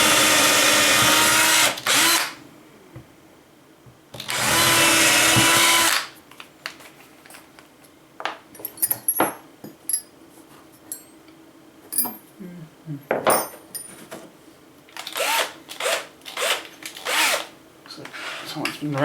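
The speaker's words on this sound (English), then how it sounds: "Drill a couple holes" A power drill whirs in two loud bursts while drilling holes for multimeter wires in a battery charger build, followed by clinking and rattling of drill bits and small parts being rummaged through.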